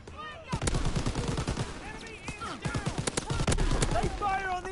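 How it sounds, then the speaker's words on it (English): Rapid gunfire bursts in a WW2 video game battle, sharp repeated shots cracking close and loud over a busy combat din, with voices talking through the action. "They fire on the infantry by the tank."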